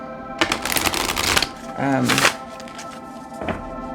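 A Herbal Astrology Oracle card deck is shuffled close up in quick bursts of riffling, flapping card sounds, followed by a few lighter taps and handling noises, with a voice briefly speaking in the middle.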